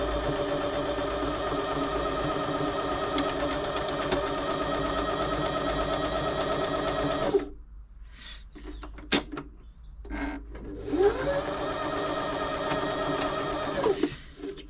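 Janome 525s sewing machine stitching a buttonhole without a buttonhole foot, a loud fast rhythmic whirring run that stops for a few seconds of small clicks and handling noises, then starts up again and winds down.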